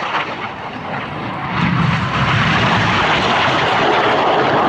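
Red Arrows jets roar overhead during an airshow display at Scampton, a loud continuous engine rumble that swells and holds steady as the aircraft pass close by.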